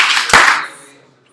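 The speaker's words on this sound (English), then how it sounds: "Clap your hands twice if you hear my voice" An audience claps together in a sharp burst of hands, answering a call to clap twice; the noisy, echoing claps fade out quickly in a hall with no talking.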